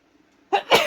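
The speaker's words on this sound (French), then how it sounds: "Je vais éternuer." A single sudden sneeze, a sharp loud burst after a moment of near silence with a faint intake of breath just before.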